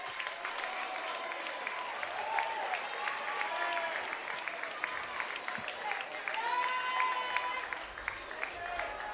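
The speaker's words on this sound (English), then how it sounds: "the crowd giving him a standing ovation" A baseball crowd at an NCAA championship super regional in Durham rises in a standing ovation, with sustained applause and cheering, scattered whistles and shouts over the roar, while a commentator talks over it.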